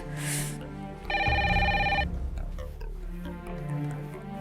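A telephone bell rings loudly in one sustained burst of about a second, set against a hum and background music.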